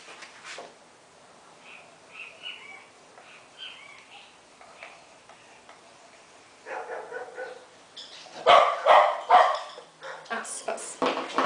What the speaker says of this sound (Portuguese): Hoje os cachorros estão latindo bastante, gente.